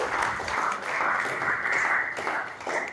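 Brief, fairly quiet applause from students in a classroom for a classmate, a few seconds of scattered clapping with no talk over it.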